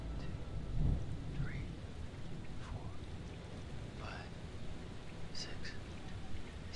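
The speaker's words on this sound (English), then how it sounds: "8 seconds. The storm's 8 miles away." Low rumble of distant thunder rolls under a continuous wash of rain during a storm in the video game Man of Medan, faint and far off, with soft voices faintly audible in the background.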